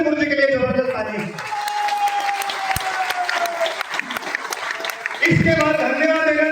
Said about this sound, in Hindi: उनके लिए जबरदस्त तालियां